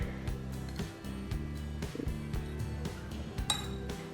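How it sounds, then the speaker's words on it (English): A spoon clinks and scrapes against the side of a pot while lamb biryani rice is gently mixed, giving a series of light metallic taps spaced irregularly, close and fairly quiet. "So I'm just going to mix it gently because I don't want the rice to break."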